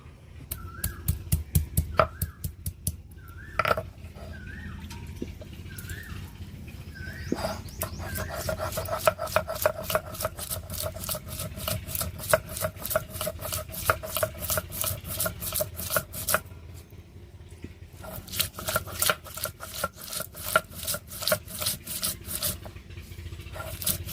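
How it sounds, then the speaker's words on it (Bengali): Salt, green chilli, ginger and garlic ground together on a grinding stone, with a steady run of rhythmic rasping, rubbing strokes close by and no speech. "বন্ধুরা সব মশলাগুলো আমি একসাথে বেটে নেবো"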